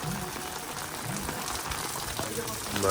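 Steady monsoon-style rain hisses across a surface at a lake in Nainital, dense and close, with faint muffled voices in the background.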